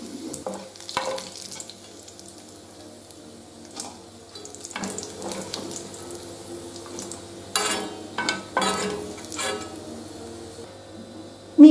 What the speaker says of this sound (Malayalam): ഇനി എണ്ണയിലേക്ക് ഞാൻ ചേർത്ത് കൊടുക്കുന്നത് 2 സവോള ചെറുതായിട്ട് നീളത്തിൽ അരിഞ്ഞു.